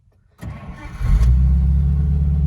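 An abandoned 1950 Pontiac engine cranks briefly, then catches and fires into a loud, rough, steady idle that runs to the end.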